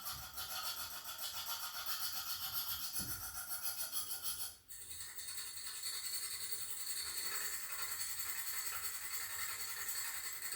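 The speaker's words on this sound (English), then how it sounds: "To sharpen the knife, I'm simply using a hand file." A hand file sharpens a cutter knife blade taken from a machine's cutter bar, a continuous, fairly quiet rasping scrape with a brief dip partway through, alone with no speech.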